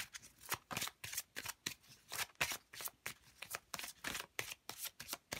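Goddess oracle cards being shuffled by hand, a steady run of crisp riffling flutters repeating about every third of a second, close and fairly quiet with no talking.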